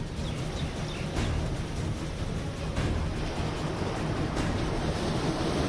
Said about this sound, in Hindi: सागर की लहरें किनारों से टकराकर ऊपर तक पहुंच रही हैं।